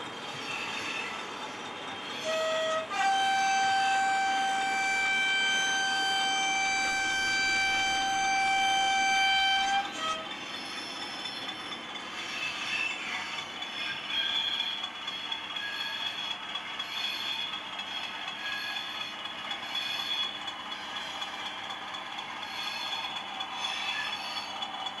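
A Hornby model train's DCC sound unit plays a loud two-tone horn blast with sustained tones, followed by quieter mechanical running and rail clatter.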